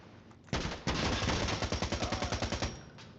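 Automatic weapon fire in the video game Insurgency: Sandstorm: a loud opening shot, then a long rapid burst of evenly spaced rounds that tails off into a few last shots.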